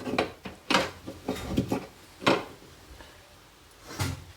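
Chili thecha is crushed in a pan with the gas turned off. Irregular knocks and scrapes of a utensil against the pan come close and moderately loud, with pauses between them and no talking.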